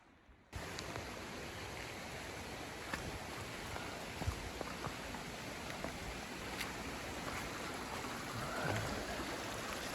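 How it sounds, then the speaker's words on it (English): Small creek in the Great Smoky Mountains running over rocks on a rainy forest hike, a steady close rush of flowing water with faint scattered ticks and patters throughout. "creek crossing we're coming into that leads into the main creek down the way there"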